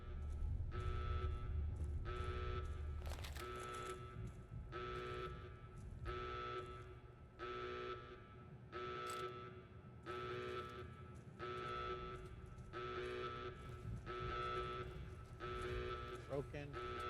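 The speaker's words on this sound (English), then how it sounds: "We're gonna have to put up with the freaking incessant alarm, it seems." An incessant alarm blares in a REPCONN headquarters interior in Fallout: New Vegas, repeating in regular pulses about once a second throughout, steady and fairly loud, with game ambience beneath and a voice talking over it.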